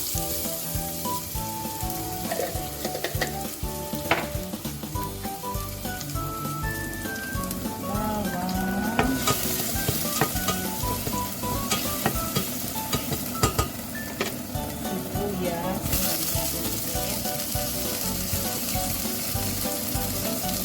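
Garlic sizzling in hot oil in a pan for pork adobo, a continuous crackling fry with occasional stirring clinks, heard beneath background music.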